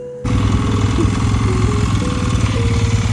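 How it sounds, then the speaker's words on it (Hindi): A motorcycle engine on a mountain road between Gangtok and Yuksom starts up abruptly and holds a steady, loud, close chugging throb with no talk over it. "चले गाड़ी आ रही है"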